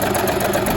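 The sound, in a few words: Bernette B35 sewing machine stitching zigzag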